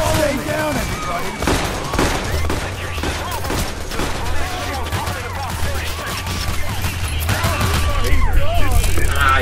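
Gunfire in the video game Payday The Heist, with rapid bursts of shots and clatter throughout under talking players and game noise, growing denser toward the end.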